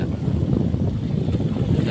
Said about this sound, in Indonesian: Suaranya terdengar sampai sini berarti dia yang gasnya kencang.